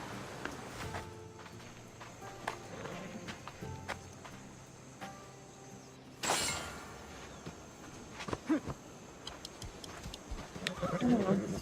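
Horse in the video game Assassin's Creed Odyssey, with steady clip-clop hoofbeats and footsteps up close, mixed with game ambience and a sharp burst of noise midway, under occasional talk.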